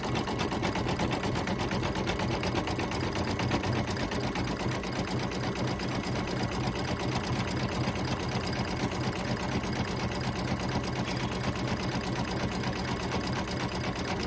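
Embroidery machine stitching a card holder design, including a small buttonhole, running steadily at close range with a dense, continuous rapid needle rhythm that holds from start to finish, with no voices.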